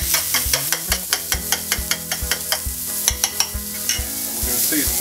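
Three eggs are whisked briskly in a bowl for a courgette and goat's cheese omelette, a rapid run of about twenty sharp, even clicks from the whisk striking the bowl, close and unaccompanied by speech.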